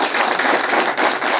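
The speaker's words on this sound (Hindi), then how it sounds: "एक बार जबरदस्त ताली बजा दीजिए।" A short burst of dense, steady audience clapping fills a crowded classroom-style gathering, loud and close with no voices above it.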